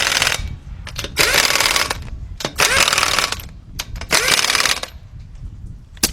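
Impact wrench tightening the wheel lug nuts in a crossing pattern on a 2005 Nissan Titan with a 5.6 engine, after a right front hub bearing replacement. Several loud rattling bursts separated by short pauses.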